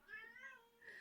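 A cat meows in a short, tonal, wavering call with a second rising cry at the end, faint and close, with no talk over it.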